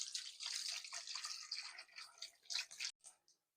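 Tap water runs steadily onto mackerel being washed in a kitchen, a broad splashing hiss with shifting patter as the fish is handled, briefly stopping near the end before a few short final splashes.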